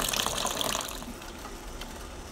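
Running tap water gushes steadily over morning glory greens as they are washed, a close continuous splash that eases slightly toward the end.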